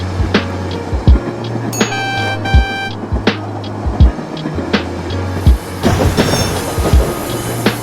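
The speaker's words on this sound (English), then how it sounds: "As the train approaches to the station" A train pulls into Fairfield Station in the video game Rails Unlimited, with rhythmic clickety-clack wheel beats over a steady low rumble, a brief bell or chime ringing, and rising track noise near the end.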